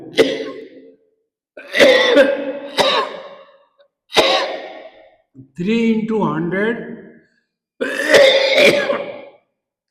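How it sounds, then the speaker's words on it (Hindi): Several harsh coughs and throat-clearing bursts come in separate clusters close to the mic, alternating with a man's speech. "ये सर ऊपर करने से खांसी आ रही है इस गले से।"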